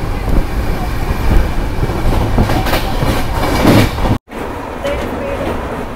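A fast passenger train running from Delhi to Amritsar roars steadily along the rails with rhythmic clickety-clack and wind rush, loud and close, cutting out briefly before resuming.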